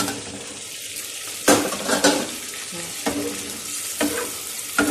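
Chicken liver frying on a flat iron tawa after yogurt is added, a steady close sizzle broken by several sharp scraping stirs of a utensil against the metal.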